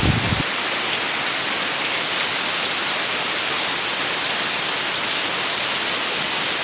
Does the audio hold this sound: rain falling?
yes